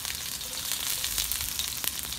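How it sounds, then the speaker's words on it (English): Shallots and garlic hit hot oil in a pan and sauté with a loud, bright, continuous sizzle and crackle, close up and unbroken, with no talking. "So now we're going to saute the shallots and"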